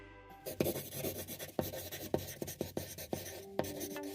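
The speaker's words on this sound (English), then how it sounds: "I write 3 new sentences" Pen writing sentences on a sticky note, close and quiet, with light scratchy strokes and small taps coming in an irregular rhythm, no voices.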